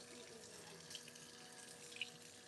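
Corn rinsed under running kitchen tap water, a steady, fairly quiet stream with a couple of brief splashes, no voices.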